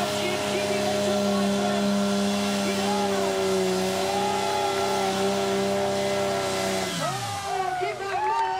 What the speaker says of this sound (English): Listen to the engine, completely different from what we've heard.